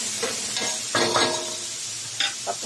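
Fermented black beans (tausi) dropped into a pan and frying, a steady close sizzle with a few louder bursts and stirring scrapes.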